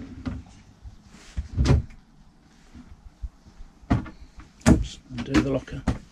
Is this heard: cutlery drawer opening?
yes